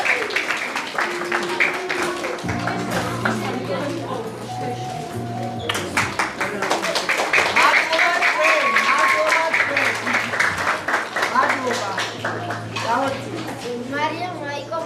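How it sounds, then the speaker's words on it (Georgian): Warm applause fills a school graduation ceremony for a fourth-grade class, steady clapping from a crowd with children's voices and talk mixed in throughout. "ხურვალი აპლოდისმენტები"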